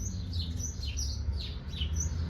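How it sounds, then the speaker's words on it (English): Small birds squabble in a garden in May, giving a rapid series of high, sharp chirps and tweets over a low, steady background hum, with no voices. "Birds fighting in the background."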